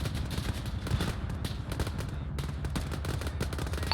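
Video-game gunfire in Operation Falconer, a dense run of rapid overlapping shots and bursts that keeps going steadily throughout, loud and busy with no clear pauses.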